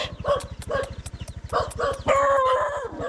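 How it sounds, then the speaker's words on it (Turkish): Repeated barking from a couple of stray dogs, sharp and fairly close, over a steady low rhythmic throb, ending in a longer whining, howl-like call, in Toraja, Indonesia. "Bir sürü sokak köpekleri var."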